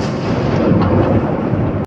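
Explosion from a Russian kamikaze drone strike in the war in Ukraine: a loud, heavy rumbling blast that rolls on continuously for nearly two seconds before cutting off abruptly.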